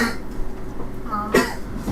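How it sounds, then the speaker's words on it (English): A person coughs near the food while others are around, one rough cough near the start and a sharper burst later, close and fairly loud over a low room rumble. "Please don't cough on the food."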